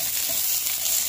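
Garlic, onion and ginger sauté in a pan with a steady, close hiss of sizzling oil, broken by faint stirring.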